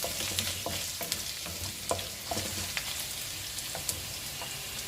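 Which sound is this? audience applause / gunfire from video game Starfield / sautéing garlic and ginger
sautéing garlic and ginger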